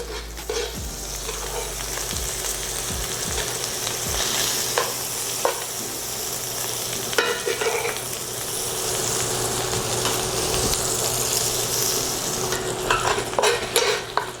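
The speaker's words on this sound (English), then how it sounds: "making sure that we get that butter on top of it and keep getting that butter on top of it and turning it over" Pork chops fry in butter in a pan, giving a steady loud sizzle with occasional stirring and scraping clinks throughout, no voices heard.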